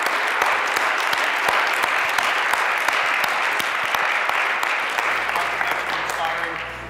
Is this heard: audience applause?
yes